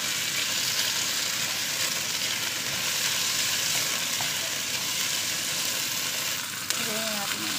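Onion and garlic sautéing in a hot pan for a watercress soup, a loud, steady sizzle filling the whole stretch, with a brief utensil clink near the end.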